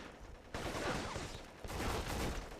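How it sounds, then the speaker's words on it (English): AK-47 assault rifle fire in a video game, dense sustained bursts of rapid shots that start abruptly and stay loud, with a brief dip before a second burst. "I'm gonna use this assault rifle. This is an AK-47."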